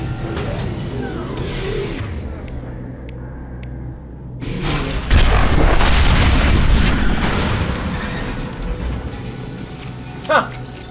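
Heavy booms and mechanical clanks from tanks under heavy-weapon fire in a video game, a sudden loud blast near the middle followed by sustained rumbling explosion noise and a brief sharp crack near the end, with game voices talking over it.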